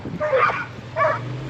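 A neighbor's dog gives two short yipping barks about a second apart, close by and moderately loud over a low steady hum.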